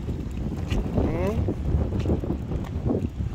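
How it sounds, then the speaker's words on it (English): Gusty wind buffets the microphone outdoors with a low, rumbling roar, and faint voices are heard beneath it. "I still like it, even if it's windy."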